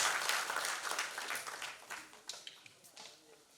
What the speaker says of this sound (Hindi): एक बार ताली बजाइए अपनी